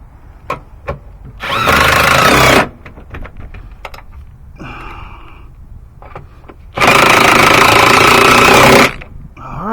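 A power tool runs on a Toyota Corolla's top right passenger-side engine mount bolts, two loud sustained bursts of roughly a second and two seconds, with scattered clicks and handling knocks between them.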